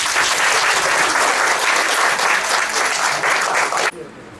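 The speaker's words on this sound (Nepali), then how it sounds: "हामी ताली बजाइदिउँ।" Wedding guests break into loud, sustained applause close by, a dense wash of clapping that stops abruptly near the end, leaving quiet room tone.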